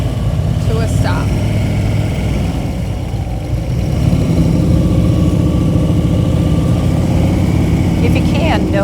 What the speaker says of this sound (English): notice the sound of the RPMs when we're doing these exercises